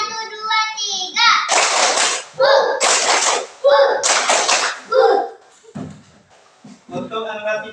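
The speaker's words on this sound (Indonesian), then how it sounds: "Tepuk satu, dua, tiga." Children chant and clap together in a rhythmic clapping game, short bursts of sharp hand claps falling between counted sung phrases, close and lively, with kids' voices leading throughout.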